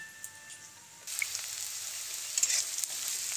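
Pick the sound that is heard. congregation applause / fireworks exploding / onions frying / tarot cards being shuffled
onions frying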